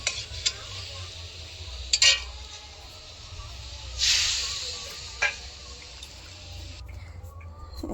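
A spoon stirs dal and vegetable masala with chilli powder and a little water in a pan: occasional scraping and clinking strokes over a quiet low hum, with gaps of near silence between them.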